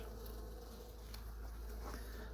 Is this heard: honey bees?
yes